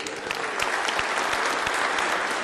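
Steady applause from the audience at the New York City Department of Sanitation swearing-in ceremony, a dense continuous wash of clapping filling the hall with no voices over it.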